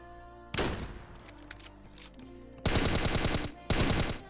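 Automatic gunfire in the video game Scarfall 2.0, set near an airport in Mumbai: a loud, sharp burst followed by quieter game sounds, then two dense, sustained bursts of rapid shots close together.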